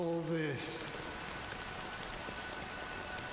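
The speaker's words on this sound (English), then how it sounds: "it's still raining." Steady rainfall in Honkai: Star Rail, a dense even patter on surfaces that fills the whole stretch, with a brief voice at the very start before the rain continues alone.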